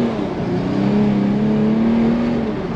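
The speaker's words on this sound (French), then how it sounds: "Petite accélération, c'est parti." A BMW 335d diesel accelerating hard with wheelspin, giving a loud, steady engine drone that rises gently in pitch over a few seconds, heard from inside the car.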